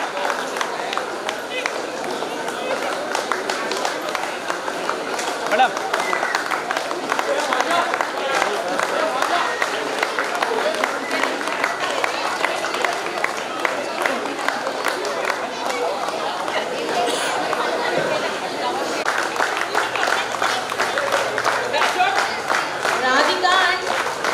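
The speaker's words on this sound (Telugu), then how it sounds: "గర్ల్స్ క్లాప్స్ అమ్మా" Clapping and applause from a crowd at a school silver jubilee reunion of a 1999-2000 batch, continuous rapid hand claps with cheering chatter and voices throughout.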